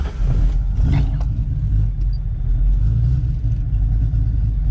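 A Ford Mustang Foxbody with upgraded heads, cam and intake accelerates, its engine giving a steady, loud, low rumble heard from inside the car, with no talking.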